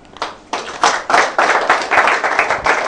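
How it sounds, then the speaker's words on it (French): A small audience at a design contest claps in uneven bursts that start sparse, swell and keep a ragged rhythm, close and fairly loud. "Je vous prie d'applaudir."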